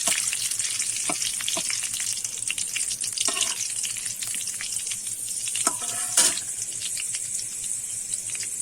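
Rupchanda fish fry in a pan of hot oil, giving a steady, dense sizzle close by, with a few faint clinks over it and no talk.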